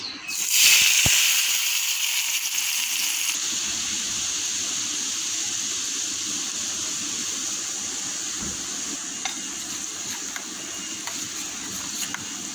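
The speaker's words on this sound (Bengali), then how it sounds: "এখন আমি গরম তেলটা এর মধ্যে ঢেলে দেব।" Hot oil is poured over coriander leaves, chili flakes and red chili powder for a momo sauce, bursting into a loud sharp sizzle that settles into a long, steady hiss.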